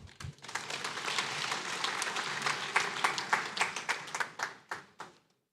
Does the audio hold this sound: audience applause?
yes